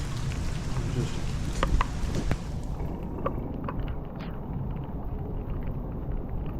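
Rain falling on a walk outdoors in Dallas, a dense steady wash of patter and splashing close to the microphone, with some louder rustling and thumps early on.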